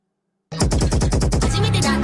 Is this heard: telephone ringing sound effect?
no